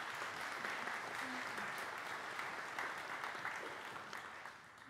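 Steady crowd applause for charity foundation volunteers at a scholarship event, a thick continuous clapping wash from a large audience that fades slightly toward the end.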